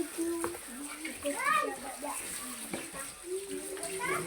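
Fish being washed in water outdoors, with splashing and trickling water running steadily under nearby voices, children among them, talking throughout.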